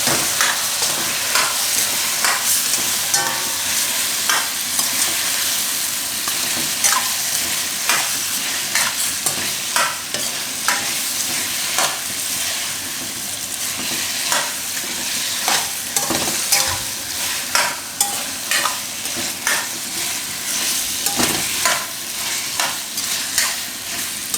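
A potato mixture frying in a pan is stirred continuously, a steady loud sizzle with repeated scraping strokes of the spoon throughout and no talk.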